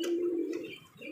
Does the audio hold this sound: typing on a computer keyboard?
no